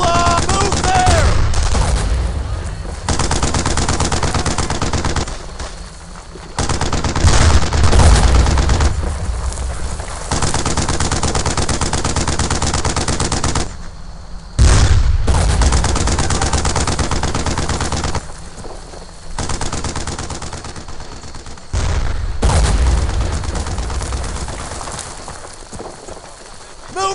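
Sustained gunfire from the WWII shooter Brothers in Arms: Earned in Blood, at Château Colombières: dense machine-gun bursts and rifle shots crackle loudly throughout, in rapid overlapping volleys broken by brief lulls, with shouted voices in among the shooting.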